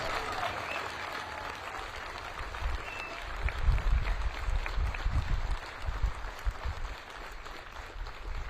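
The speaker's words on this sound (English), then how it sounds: "Please join me for a round of applause in recognizing these exceptional paratroopers." An audience at a military ceremony at Fort Bragg, North Carolina applauds paratroopers: a soft, diffuse patter of clapping that swells in the middle and then settles, heard at a distance with low rumbling room noise underneath.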